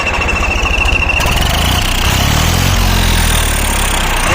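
Close and loud, a tractor engine with an installed turbo whistle chugs and then revs up, its deep throbbing rising in pitch beneath a steady high-pitched whistle.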